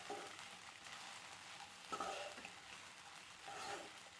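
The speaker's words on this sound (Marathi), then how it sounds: "सगळं व्यवस्थित असं मिक्स करून घ्यायचं।" Sabudana khichdi is stirred in a hot pan with a soft, continuous sizzle and faint scraping of the spoon, quiet and close.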